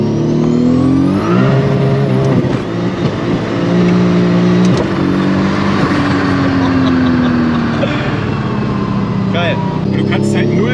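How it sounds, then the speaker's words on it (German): A turbocharged BMW M3 pulls hard at full throttle, its engine loud and close as it climbs and drops in pitch through gear changes, with people talking over the roar inside the cabin. "Du kannst auch einfach nur Vollgas geben, der dreht dann den Begrenzer"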